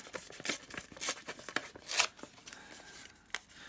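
Coffee-dyed ledger paper is torn by hand into strips, giving a series of sharp ripping bursts at irregular intervals, close and fairly quiet.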